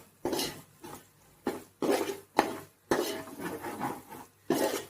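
A spoon scraping and stirring chicken biryani masala with chilli powder in oil in a pot, in irregular bursts of rough scraping separated by short pauses.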